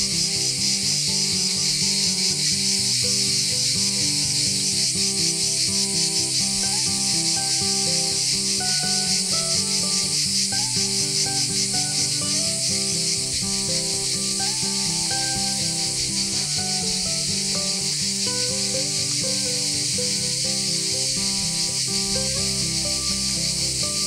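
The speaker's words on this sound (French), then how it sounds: "Avec la cigale en bande originale." A cicada chirps loudly and continuously in Occitan countryside near the Garlaban hills, an unbroken buzzing drone with a bright rasping edge that holds for the whole stretch, and nobody speaks.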